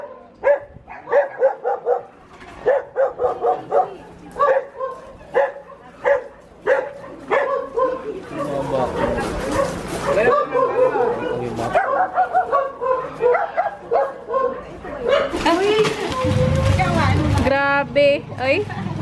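Dog barking in repeated bursts, first in a steady series then scattered, close by and loud, mixed with people chatting and calling out outdoors during an Undas visit.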